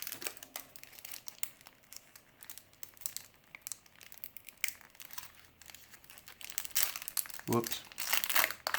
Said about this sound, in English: carefully rip it.